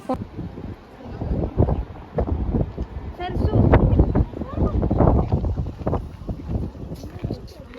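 Gusty wind on a Goa trip buffets the microphone in loud irregular rushes and rumbles, rising and falling throughout, with people talking underneath.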